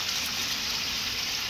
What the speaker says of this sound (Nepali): पानी सलल गइरहेछ। ट्याङ्की सफा गर्ने कार्यक्रम रहेछ आज।